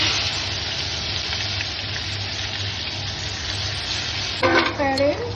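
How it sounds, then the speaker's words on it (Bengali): Dried red chillies and whole cumin seeds hit hot mustard oil, sending up a steady, close, dense sizzle over a low hum, with a brief burst of sharper crackling and spattering near the end. "শুকনো লঙ্কা ফোড়ন দিলাম, একটু গোটা জিরে দিচ্ছি"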